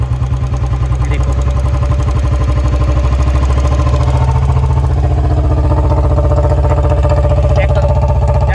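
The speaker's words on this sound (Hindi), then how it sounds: "देखो राइट साइड में घुमाओगे तो ज़्यादा हो जाएगी आरपीएम।" A Royal Enfield Bullet motorcycle engine held at raised RPM after an idle-screw adjustment, thumping in a loud, steady, close rhythm with no speech over it.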